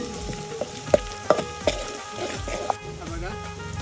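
Garlic fries in a pan over a wood-fired stove and is stirred, giving a soft sizzle under a voice. Several sharp scraping knocks from the stirring spoon punctuate the sizzle.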